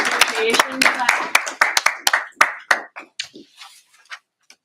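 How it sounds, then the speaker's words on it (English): A small group at a meeting claps in appreciation, with brisk individual claps that start fairly dense and thin out into scattered, fading claps, and faint talk mixed in near the start. "So, a little appreciation clap."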